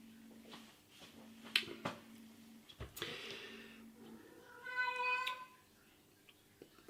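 A domestic cat meows several times in a quiet room, short faint calls with one longer, louder drawn-out meow near the end, amid light tapping and handling noises.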